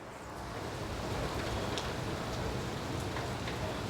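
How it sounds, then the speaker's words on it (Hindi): Steady rain falls outdoors as a continuous broadband hiss with soft scattered drop patter, even and moderately loud for the full few seconds, with no voices. "देखिए बारिश हो रहा है।"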